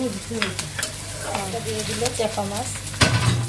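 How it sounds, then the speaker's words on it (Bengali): Spices sizzle lightly in a pan, with a steady frying hiss broken by a few sharp stirring scrapes, over a low background murmur of voices. "হালকা হালকা ভেজে নিচ্ছে মশলা দিয়ে দিয়ে"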